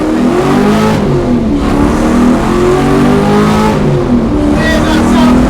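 A Lexus V8 fitted in a rare Ford Sierra revs up and down in loud sweeping pulls heard from inside or nearby, with people talking faintly under the engine.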